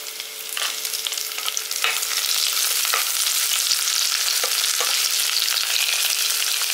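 Garlic sizzling in hot oil with star anise, cinnamon and cardamom in a pan, a steady bright hiss with a few crackles and light stirring scrapes, no voices.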